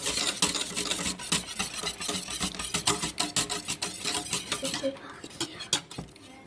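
A square spatula scrapes the bottom of a pan while stirring béchamel, producing rapid, irregular scratchy strokes close by, with a voice talking faintly underneath.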